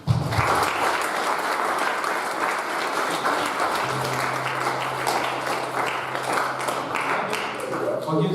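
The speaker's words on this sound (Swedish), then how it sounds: "En applåd tycker jag." A church audience claps in sustained, dense applause throughout, with voices and a low tone running underneath, loud and close.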